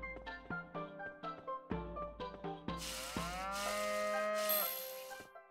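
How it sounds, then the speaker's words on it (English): Cattle mooing in the farming game Harvest Moon: Light of Hope, a string of several short, loud moos rising into one long, drawn-out call, alone with no talk. "I can actually go up here and milk my cow."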